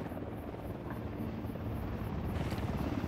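Helicopter in the Ghost Recon Wildlands video game, a low, rumbling rotor thrum with rhythmic blade chop that grows steadily louder as it approaches, heard alone without talk.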